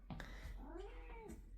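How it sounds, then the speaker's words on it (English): A pet cat gives a single rising-and-falling meow, close by and very quiet, alone without talk. "I love it when you meow hello."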